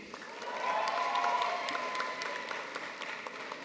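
A graduation ceremony audience in a large hall applauds, a soft, distant, sustained patter of many hands with scattered louder claps, and no talk over it.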